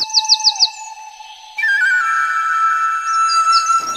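Pet birds such as African, Java and other finches in a shop, giving a quick run of bright chirps, then sustained high whistled tones, clear and close.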